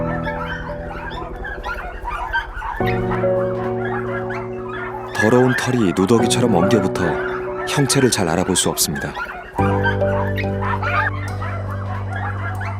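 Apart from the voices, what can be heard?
puppies barking and whimpering in a greenhouse puppy mill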